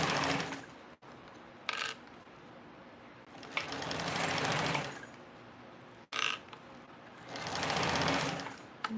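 A sewing machine stitches a seam in quick, close bursts separated by brief pauses, its rapid mechanical whirr rising and falling with each run.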